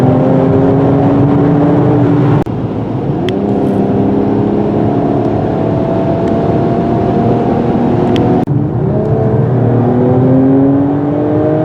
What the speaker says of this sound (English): this engine puts out a massive amount of torque